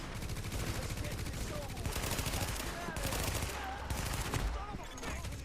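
Gunfire from weapons in the video game The Division, played in a closed beta on Xbox One: dense, continuous bursts of automatic fire run throughout at steady loudness, with game effects layered over them.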